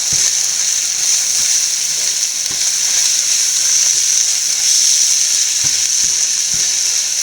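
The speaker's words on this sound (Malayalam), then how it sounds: "നമുക്ക് നല്ലപോലെ പച്ചമണം മാറുന്നിടം വരെ മുളക് നല്ലപോലെ വഴറ്റി കൊടുക്കാം" Chilli powder sautéing in hot oil on a very low flame for an egg roast, a steady close sizzle and frying hiss with faint occasional stirring clicks, no voices.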